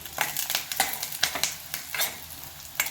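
Onion sizzles in a hot pan as curry leaves go in, giving a loud close crackling hiss with quick bursts and scraping stir strokes.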